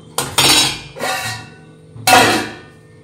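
Metal lid set down over a dish of rice, giving three sharp clattering clinks of metal on metal with brief ringing decay, close and loud, with no voices.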